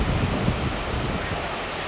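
Strong wind and ocean surf at Maracaípe beach make a dense, loud, continuous roar with gusty buffeting on the microphone.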